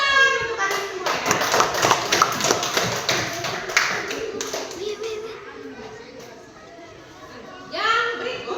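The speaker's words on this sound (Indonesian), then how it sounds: "tepuk tangan untuk kalian semua ya" A class of children claps together in a classroom, a burst of brisk, overlapping hand claps lasting a few seconds before fading, with children's voices and talking afterward.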